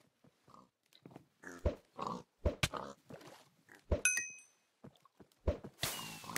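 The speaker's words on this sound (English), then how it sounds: "Oh wow, someone actually killed a pig." Pig grunts and oinks from Minecraft, played on the Hypixel server, come as a run of short, loud, close bursts with no speech, broken by a bright chiming ding midway and ending in a hissy rush of game noise.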